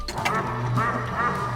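A duck quacks in a quick series of nasal calls, fairly close and continuous, with no talking.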